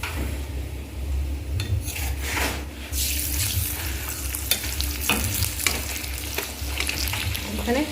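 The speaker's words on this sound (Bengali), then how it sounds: "অনেক তেল দিয়ে দিয়েছি, লুচি ভাজার মতো হয়ে যাচ্ছে দেখো বন্ধুরা" Paratha frying in a pan with a generous amount of oil gives a steady, close sizzle, with stirring and scraping sounds on top now and then.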